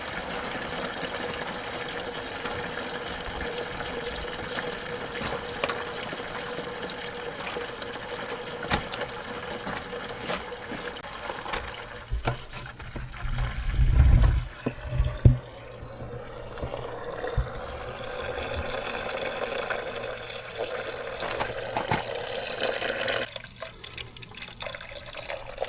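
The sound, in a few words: antifreeze coolant dripping out of Mercedes 410D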